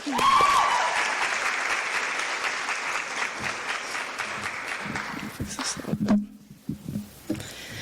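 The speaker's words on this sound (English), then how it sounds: "One more round of applause for them." Audience applause fills the hall at a college senior student-athlete award ceremony, loud and sustained at first, then thinning into scattered claps and fading out near the end.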